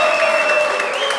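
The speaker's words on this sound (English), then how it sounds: "Fans are cheering him on." Fans at a pool tournament match applaud and cheer, a steady wash of clapping that fills the hall at full volume.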